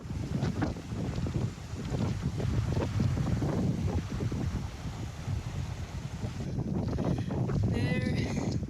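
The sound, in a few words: strong wind on a mountain hike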